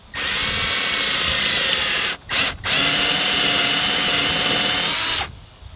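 A power drill fitted with a Forstner bit bores a hole for a passthrough post, whining loudly and steadily before stopping twice in quick succession, then running on again and cutting off near the end.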